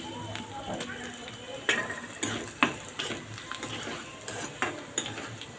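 Oil crackles softly as dry red chillies fry, with scattered clinks and scrapes of a utensil against the pan at a steady, close distance.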